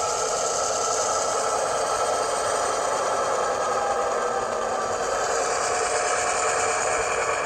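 An HO scale model railroad locomotive running on a layout during switching operations, giving a steady, even motor whir with a faint high whine throughout and no talk.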